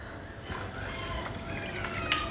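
An air cooler's water pump motor runs and sends water trickling and dripping inside the unit. The flow is soft and continuous, with one small clink near the end.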